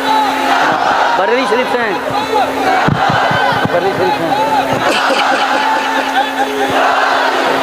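A large crowd chants a religious slogan in unison at a Ramzan naat gathering, loud and close, with a voice calling out over the massed response.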